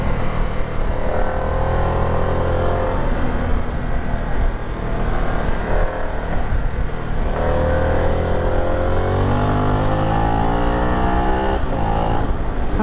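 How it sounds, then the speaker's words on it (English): A 2022 Harley-Davidson Pan America motorcycle engine while riding, loud and continuous, its pitch rising and falling through gear changes and acceleration, with steady wind noise throughout. "It's not the best sounding engine I've ever heard, but it's not bad."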